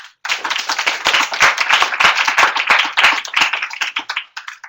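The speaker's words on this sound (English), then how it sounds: "So a round of applause for Leo and Sumi" A small audience at a University of Washington talk claps for Leo and Sumi, a close, crisp patter of individual hand claps that starts abruptly, holds steady for several seconds and then thins out.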